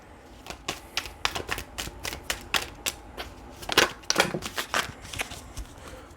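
Tarot cards are riffled and shuffled by hand in a run of quick, papery flicks and taps, fairly close and irregular, with a denser flurry near the end as some cards slip out.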